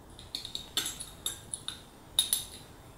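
Homemade probiotic toothpaste is stirred with a spoon, producing quick clinking taps and metallic scrapes against the container in an irregular rhythm, close and fairly clear with no talking.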